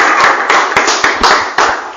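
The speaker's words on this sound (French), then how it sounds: "Applaudissez pour le frère" A church congregation claps for a brother during a sermon, with loud, rhythmic clapping in a steady beat of roughly four or five claps per second.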